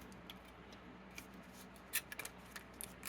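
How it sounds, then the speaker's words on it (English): Aluminium foil crinkles and crackles over a plant pot, soft rustling giving way to a few sharper crisp crackles near the end, close and fairly quiet. "And I put the foil over the top."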